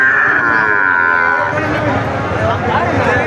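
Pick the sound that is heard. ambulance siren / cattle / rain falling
cattle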